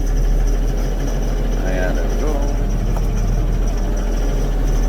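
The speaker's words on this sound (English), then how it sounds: "We're going to warm this tractor up and we're going to take it for a little drive." A farm tractor's engine warms up and idles with a steady, low, continuous rumble, close by, while someone speaks briefly over it.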